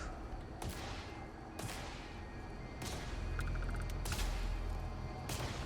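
Guns fired during a fight with pirates in the sci-fi game Starfield, several sharp bursty shots spread across a few seconds over a constant rumbling game backdrop, with no talking.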